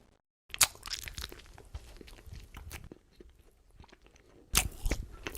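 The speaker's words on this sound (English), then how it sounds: "I hate hearing people chew and eat." Someone chews and eats crunchy food up close, with sharp crunching bites at the start and near the end and softer chewing and mouth sounds between, fairly quiet overall.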